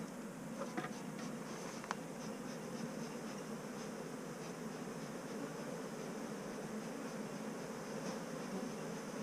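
Steady, close buzzing of many bees at nucleus hives in a dense, even drone that continues throughout with no talking.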